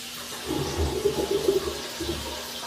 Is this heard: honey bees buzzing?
no